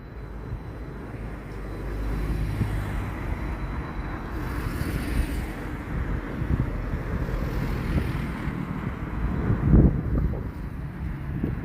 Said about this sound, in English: Get out of this wind a bit.